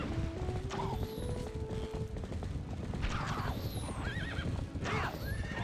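A horse in a video game whinnies several times over the steady clip-clop of a fast gallop, with high whistling sounds passing overhead.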